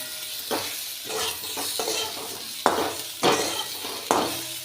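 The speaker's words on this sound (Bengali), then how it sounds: "টমেটোগুলো সব দিয়ে দিলাম দিয়ে আবার ভালো করে নাড়িয়ে দিলাম" Tomatoes sizzling and frying in a pan while a spoon stirs them, steady hiss broken by several louder scraping strokes at uneven intervals.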